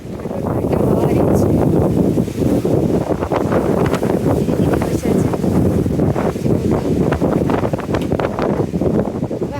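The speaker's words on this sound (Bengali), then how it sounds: "হাওয়া হাওয়া আছে দাদা" Strong wind at Lake Constance buffets the microphone in a loud, constant rumbling roar, with gusty surges throughout and no pauses.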